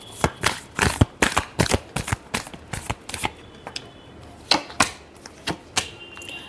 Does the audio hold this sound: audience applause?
no